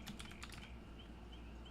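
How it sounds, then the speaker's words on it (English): Keys on a computer keyboard are typed during a relaxed live stream: a quick, quiet burst of clicks in the first moment, then faint room hum with no talk. "now I'm just typing wrong"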